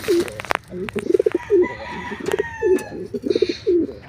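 Pigeons coo repeatedly at close range in a steady, rhythmic series of low throaty calls, with a few soft clicks and other faint bird sounds around them.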